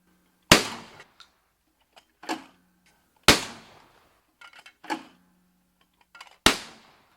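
Browning A5 shotgun firing a variety of shells outdoors: three loud, sharp blasts a few seconds apart, each followed by quieter clacks of the action cycling and ejecting.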